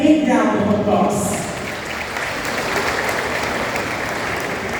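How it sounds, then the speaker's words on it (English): Audience at a school graduation applauding teachers, a broad steady wash of clapping that swells after a voice at the start and continues evenly. "Let us give them a big round of applause."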